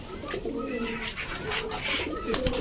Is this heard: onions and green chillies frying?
no